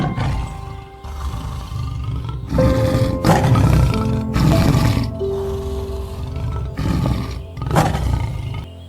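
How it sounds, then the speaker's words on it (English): A tiger roars in a series of deep, rumbling bursts separated by short pauses, close and loud, with no voices. "Tiger."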